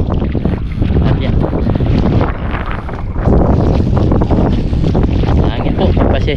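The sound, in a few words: wind noise on microphone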